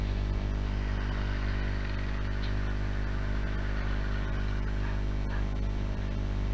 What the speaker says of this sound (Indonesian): kudengar suara motor depan rumah